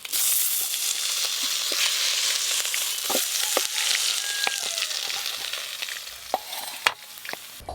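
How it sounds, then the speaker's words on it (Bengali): Large aar fish pieces frying in hot mustard oil, a steady broadband sizzle with scattered sharp crackles and pops from spattering oil, sustained and close throughout. "এই মাছগুলো ভাজতে একটু সময় লাগে।"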